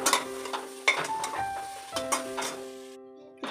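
A spoon stirs peeled, mashed potatoes into roasted masala in a pan for a bread cutlet filling. Soft scraping and mushing strokes come close, with a gentle sizzle and a steady tonal background beneath.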